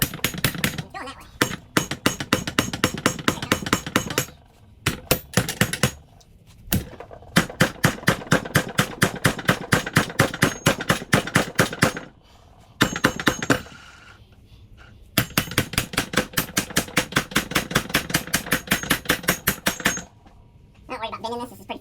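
Rapid, sharp metallic hammer blows strike a stuck part in long rhythmic bursts, pausing several times between runs of dense, evenly spaced hits.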